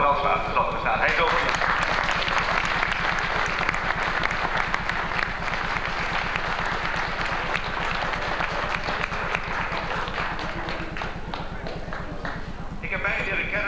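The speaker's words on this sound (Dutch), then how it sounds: "een applaus voor Brandsma" Dense, sustained applause for Brandsma, a shipbuilder, fills a room. Many hands clap in quick, slightly rhythmic patter over a low electrical hum, and it holds steady for over ten seconds before easing slightly.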